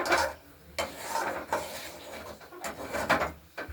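A spoon stirs a spiced green pea filling for kachori in a wok, scraping and clinking against the metal in repeated uneven strokes, close and steady, with no one talking.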